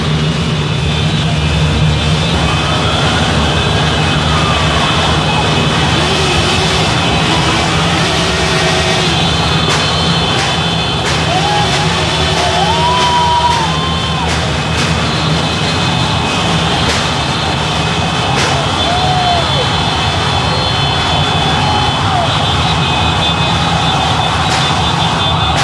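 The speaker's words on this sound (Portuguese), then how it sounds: "roncam os motores." Many motorcycle engines roar together in a motorcycle pilgrimage procession ahead of the Círio de Nazaré in Belém, Pará, a loud, unbroken drone with rising and falling whines layered through it for the whole stretch.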